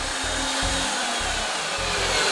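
A Reed 5301PD power threading machine runs loud and close with a steady high whine while cutting pipe, and a low throbbing pulse repeats about every half second underneath.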